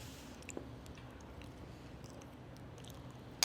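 Someone eating buffalo chicken cauliflower mac and cheese casserole, soft close chewing and squishy bites, quiet, with a small knock at the very end.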